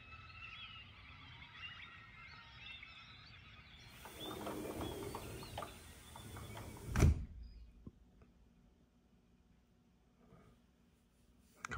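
Double pane doors slide and close with a mechanical rumble, ending in one firm thud, after which faint outdoor birdsong from a golf course drops to near silence.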